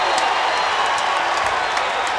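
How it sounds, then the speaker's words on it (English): An arena crowd at a 1994 Indiana college basketball game against Athletes in Action roars steadily as the home team takes its first lead, a dense wash of cheering and clapping. "the first lead of the game brings this crowd to life"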